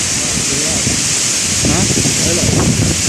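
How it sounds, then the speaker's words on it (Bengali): Strong gusting wind roars steadily through trees during Cyclone Remal under a dark stormy sky, a loud continuous rush with rustling and rain-like hiss, with people talking over it at times. "কঠিন ঝড় একদম অন্ধকার হয়ে আছে"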